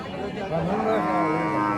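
A cow at a rainy cattle market lets out a long, loud, close moo that swells in the middle and holds steady to the end, with no voices over it.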